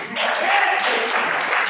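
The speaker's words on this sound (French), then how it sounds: "applaudissons le roi" A church congregation at a Sunday service breaks into sustained applause, a dense wash of many hands clapping together that starts abruptly and carries on steadily at a loud, close level.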